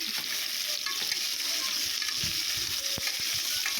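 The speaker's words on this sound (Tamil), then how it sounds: "இதோட எண்ணெயிலையும் காயும் வதக்கி விட்டுருங்க." Vegetables and garlic sauté in hot oil in a pan for a Tamil chickpea curry, with a steady loud sizzle throughout and occasional soft scrapes of a stirring spoon.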